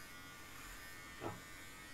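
An electric shaver buzzes steadily while someone's head is being shaved, a faint, continuous drone with a brief swell near the end.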